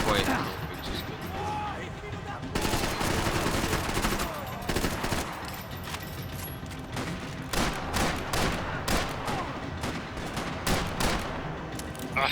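Revolver gunfire in the video game Max Payne, a rapid run of loud sharp shots in clusters over a dense game soundscape, with a voice talking briefly.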